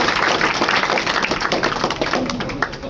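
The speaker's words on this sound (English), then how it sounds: "give them a round of applause" Audience at a comedy panel at a convention claps in a dense burst of applause that stays steady for a few seconds, close and fairly loud.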